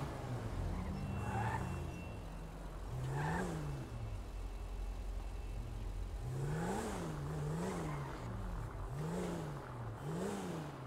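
A car driving with passengers inside, steady engine and road hum from within the cabin, with the engine note rising and falling through gear changes, fairly quiet and continuous.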